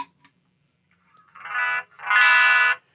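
Through an amp, a talkbox tube gives off a quiet, semi-shrill noise: two faint ticks, then two swelling bursts of buzzing tone, the second louder and longer, alone with no talk.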